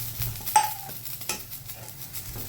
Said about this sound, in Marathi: असं छान परतून घ्यायचं.